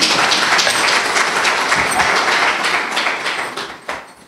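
A crowd applauds loudly at a handover ceremony between an incoming and an outgoing director in Atlantique; dense, steady clapping fills the room and thins toward the end.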